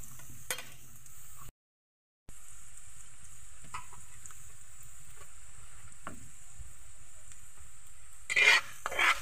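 Ginger frying and browning in a pan, a steady low sizzle with a few stirring scrapes, busier and louder near the end.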